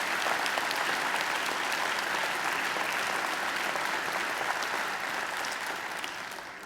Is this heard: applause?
yes